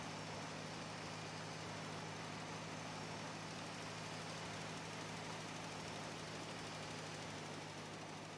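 A tractor engine in the Farming Simulator 22 video game runs at a steady, even drone with a low hum, continuous and unchanging throughout.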